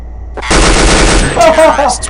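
Rapid automatic machine gun fire in Counter Strike during a finals match, a dense continuous burst lasting most of the moment, loud and close, with further game sound effects layered near the end.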